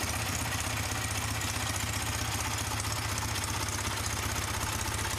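A 1970s Yamaha TX750 motorcycle idles, its 743 cc air-cooled OHC two-cylinder engine giving a close, steady, even rumble with no talk.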